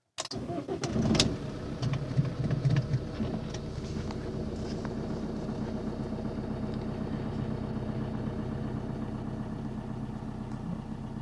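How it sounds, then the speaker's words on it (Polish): A car engine cranks and catches after a brief whir, revs briefly, then settles into a steady, even idle, heard close by with no talking. "I odpalamy autko."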